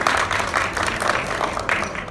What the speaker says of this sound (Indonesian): Boleh tepuk tangan buat Bapak Hadiana Santoso ya.